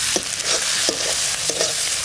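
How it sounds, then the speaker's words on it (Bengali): Onion, ginger and garlic sizzle loudly in a pan while being stirred for a raw mango chicken curry, with three or four sharp scraping strokes of the spoon over a constant frying hiss. "এবার দিয়ে দেবো আদা আর রসুন। এইটা একটু ভালো করে একটু নেড়ে চেড়ে নেব।"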